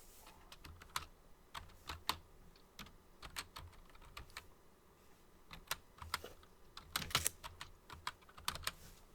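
Someone typing on a computer keyboard, quiet, irregular bursts of key clicks with brief pauses, recorded faintly at close range without speech.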